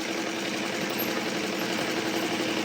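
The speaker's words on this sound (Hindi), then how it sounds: "अब मैं लाइनिंग की तरफ से इस आर्म होल पर लाइनिंग की तरफ से आपको सिलाई लगा के दिखा देती हूँ" Sewing machine stitching the lining side of a blouse armhole, a steady continuous mechanical whir with dense buzzing that holds at one level throughout, close and fairly loud, with no voices.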